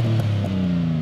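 A Mitsubishi Shogun 3.0 V6 with a cherry bomb back box gives a deep, steady exhaust drone that rises briefly as the engine revs, loud and close with no talking.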